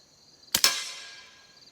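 An FN 502 pistol fires one round of CCI Quiet suppressor ammunition that fails to cycle the action: a single sharp, close report with a quick secondary snap, then a short ringing decay alone in a quiet setting.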